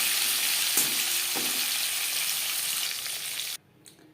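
Bata fish frying in hot oil in a wok gives a dense, loud, steady sizzle with a couple of light clinks, then cuts off abruptly near the end to near quiet; no talking.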